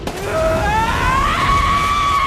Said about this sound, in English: With a very pleasing scream to my gamer ears, yes, I've made the boss cry.